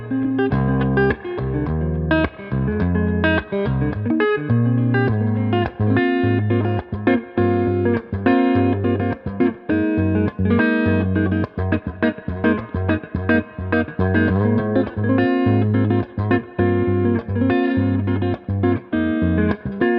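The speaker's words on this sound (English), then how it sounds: "it's just a good classic spring reverb sound too" An electric guitar plays a repeated riff through a Magnatone Twilighter amp with its spring reverb switched on, choppy rhythmic chords ringing with a light wash of reverb throughout.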